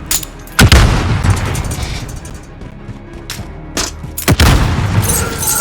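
Grenade blasts and gunfire in Call of Duty: Modern Warfare multiplayer on a train station map: loud booms land near the start and again near the end, with a steady crackle of shots rumbling through the middle.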